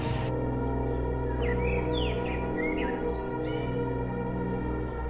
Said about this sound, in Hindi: सालों बाद पहली बार वहाँ पर पक्षियों की आवाज़ सुनाई दी।